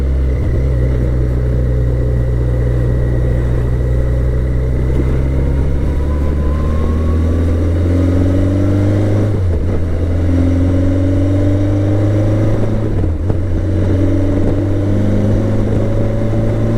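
A BMW accelerates hard through the gears, its loud engine drone climbing in pitch, dropping briefly at each of two clear shifts, then rising again, with no talk over it.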